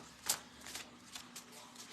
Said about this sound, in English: These cards don't want to shuffle.